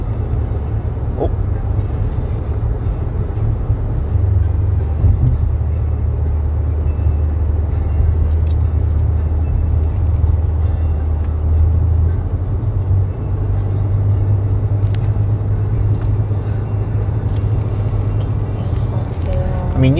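A car drives through a large park in a residential area of Round Rock, Texas, its steady low engine and road rumble continuous and close throughout, with a few quiet voices from inside.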